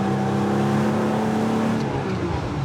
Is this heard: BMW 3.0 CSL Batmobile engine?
yes